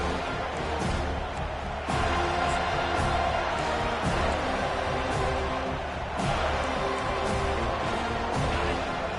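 A stadium crowd roars in the Madden football video game, a dense, steady wall of cheering under play-by-play commentary, with a few thuds and swells along the way.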